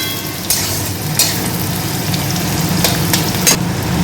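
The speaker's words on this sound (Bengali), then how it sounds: "পেঁয়াজ আর লঙ্কাটাকে খুব ভালোভাবে ভেজে নেব।" Chopped onion and green chilli fry in mustard oil after mustard seeds, a steady close sizzle with faint stirring scrapes and a few brief clatters, no talking.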